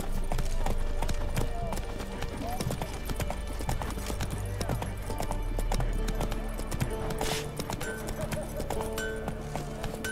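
Hoofbeats of Roach, the horse in The Witcher 3 video game, clip-clop in a steady galloping rhythm for the whole stretch, close and fairly loud, with a brief whinny and a voice speaking over it.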